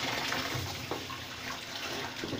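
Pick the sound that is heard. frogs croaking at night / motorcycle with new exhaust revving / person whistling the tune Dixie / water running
water running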